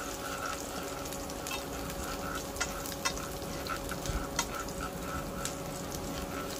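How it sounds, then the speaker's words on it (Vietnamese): Chopped shallots fry and sizzle steadily in hot oil in a pan for a vegetarian pumpkin dish, a dense crackling hiss with scattered sharper pops throughout, close and unaccompanied by talk. "mình bắt đầu mình cho cái phần đốt hành vào thôi. Rồi mình phi cho nó vàng"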